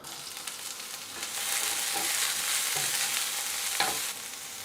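Three hot green peppers frying in a tablespoon of olive oil for menemen, a bright steady sizzle that swells slightly, with a few stirring clicks, near and unaccompanied by voices.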